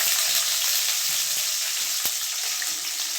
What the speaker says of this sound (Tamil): சும்மா லைட்டாக வதக்கினா போதும்.